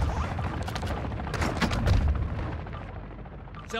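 Gunfire in Call of Duty DMZ erupts as a dense burst of rapid cracks and booming impacts that swell, then trail off into rumbling echoes, with a final sharp shot at the end.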